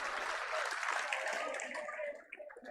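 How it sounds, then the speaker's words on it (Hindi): Crowd applause at a political rally in Vijaynagar welcoming Sachin Pilot: dense, continuous clapping fills the whole stretch, loud and close, thinning slightly toward the end. "इन बात ही थे तालियां बजाओ"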